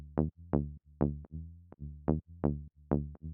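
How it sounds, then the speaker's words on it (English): A plain sine-wave bass from Ableton Operator, shaped by a filter envelope with no effects, plays a repeating tech house pattern of short, punchy notes with pitch drops, alone and clean. "the sound is just a sine wave in operator"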